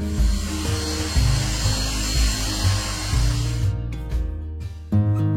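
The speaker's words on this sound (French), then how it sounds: "je passe systématiquement un coup d'aspirateur" A household vacuum cleaner runs loud and steady indoors with music underneath, then cuts off near the end and leaves the music alone.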